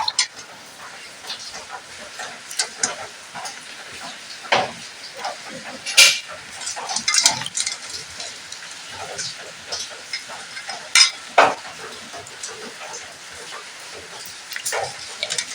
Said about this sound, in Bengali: এই ডেস্কিতে জল নিয়ে পুরো পরিষ্কার করে ধুয়ে নেবো